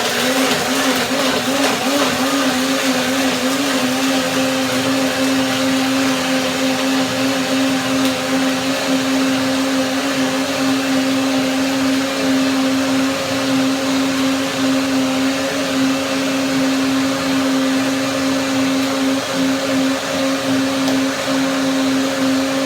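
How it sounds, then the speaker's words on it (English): A blender blending chili and tomatoes runs continuously at high speed, giving a loud, steady mechanical whir with a sustained tonal hum throughout. "First blending blender dance."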